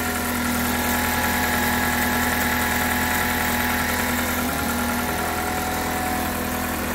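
A Toyota Corolla engine idles steadily up close at -32°C, a constant low rumble with a thin whine from the alternator riding on top.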